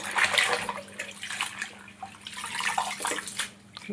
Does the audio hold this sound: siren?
no